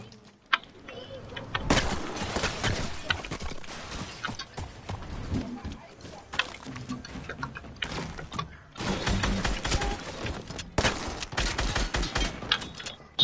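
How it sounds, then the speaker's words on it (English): Double-barrel shotgun blasts and other weapon fire in a first-person shooter game, loud bursts in irregular clusters separated by brief quieter gaps. "this is using a double barrel"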